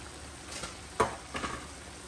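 Tomatoes dropped onto keema on a hot tawa, a soft sizzle with a sharp burst in the middle and a few smaller scrapes after.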